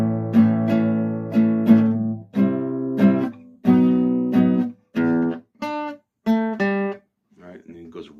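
Electric guitar playing the riff of a song, a string of punchy chord and note hits in an uneven rhythm, close and moderately loud, with a brief voice near the end.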